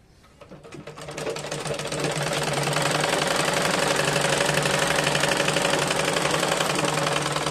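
A small sewing machine stitching a bra, starting up and then running in a fast, continuous, even mechanical whir at full speed, close and loud, with no voices.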